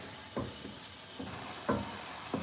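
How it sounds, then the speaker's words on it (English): A spoon stirs tomato sauce cooking in a pot, giving four soft scraping strokes at an uneven rhythm over a steady low simmering sizzle, close and fairly quiet, with no talking. "And I'm going to stir it"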